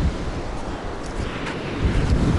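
Waves washing onto a wild beach of the Sea of Azov near Golubitskaya, a steady broadband surf wash with wind rumble, moderately loud and close, with no talking.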